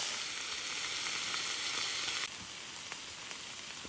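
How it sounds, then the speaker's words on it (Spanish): Meat sizzles slowly in a pan over a campfire, a steady close crackling hiss that dips slightly partway through, with no voices. "La carne se fríe a fuego lento."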